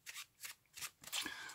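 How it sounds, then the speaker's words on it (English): A pack of playing cards is riffled over a card mat in several quick bursts, three short shuffles followed by a longer, louder riffle, close up and with no talk. "We'll start off by shuffling the packet."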